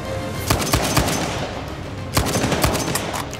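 Gunfire in the video game Uncharted 4, sharp close shots cracking in short clustered bursts, loud and percussive against a steady background of game ambience.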